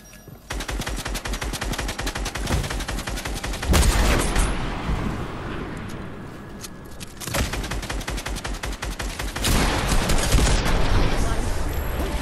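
Loud, sustained automatic gunfire in a shooter video game, two long rapid-fire bursts with a heavy blast between them, close and dominating, with players' voices beneath.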